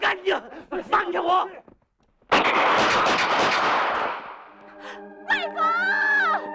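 Film gunfire erupting in a dense, loud burst of rapid shots and blasts after shouted dialogue, the barrage fading into ringing tones as voices yell again near the end.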